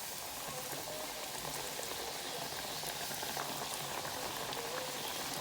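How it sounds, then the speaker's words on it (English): Meat frying in a pot for Jamaican barbecue fried chicken, a steady, even hiss and bubbling crackle that holds without a break at moderate loudness, with no talk. "I'm gonna add the meat to the pot now, make it fry"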